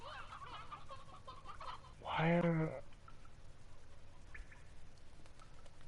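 A video-game chicken lets out a single loud, harmonic cluck-squawk midway, set against quiet background noise, with a voice speaking briefly before it.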